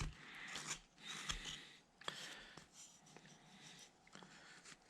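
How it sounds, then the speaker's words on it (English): Heavy, raspy breathing right against the microphone during beginner wood carving, a slow series of loud inhales and exhales with faint scraping in between. "just hear my breathing a little more."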